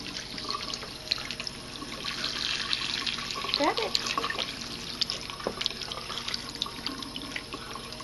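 Water splashes and trickles in a small child's bathtub, soft sloshing and dripping at close range beneath a parent's voice.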